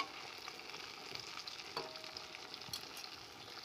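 Cauliflower chops deep-frying in hot oil while being turned, a steady close crackling sizzle with a few brief pops and a spoon touch, no voices.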